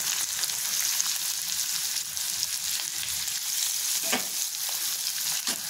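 Onion and garlic frying in a pan for paneer bhurji, a steady bright sizzle that holds throughout, with a few sharp clicks of a spoon stirring near the end.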